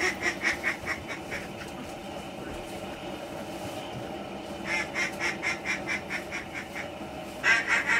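Ducks and geese honk and quack in rhythmic bursts at a busy, active duck hunting spot on a cold, sunny day, the calls carrying over steady background noise.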